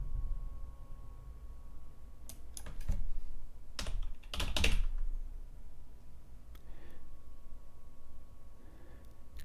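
Fingers typing on a computer keyboard during AWS load balancer setup, a quick cluster of clicky keystrokes in the middle with a few sparse taps afterward over a low room hum.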